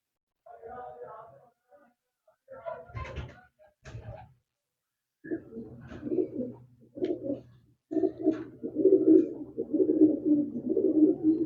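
Teddy pigeons coo in soft, repeated throaty bursts, close by, building into a steadier cooing toward the end, with brief sounds between phrases.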